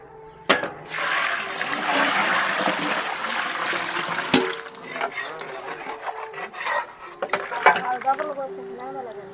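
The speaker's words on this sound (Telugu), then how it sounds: "కొలత నీళ్ళు అయితే పోసేస్తున్నాము" Measured water is poured into a large pot of chicken biryani for a big Easter batch, a steady rushing pour that tapers into irregular sloshing, with people talking nearby.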